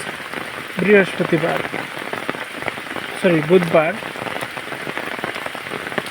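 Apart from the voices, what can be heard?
heavy rain falling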